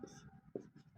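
Chalk or marker scratches on a classroom board in short, quiet strokes, a few quick scrapes within a second, close and faint.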